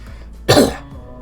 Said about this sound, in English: you're just talking about this stuff again is making me cough again